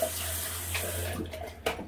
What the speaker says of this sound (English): Wash out the bowl because I'm not gonna need it again.